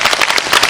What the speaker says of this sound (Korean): 이민호, 정진영 두 배우분께 큰 박수 드리면서 자리 마무리하겠습니다